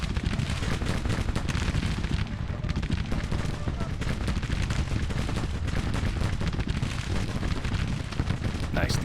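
Musket volleys and artillery fire in the Civil War strategy game Grand Tactician, a dense, continuous rumble of overlapping gunshots and booms with a voice talking over it.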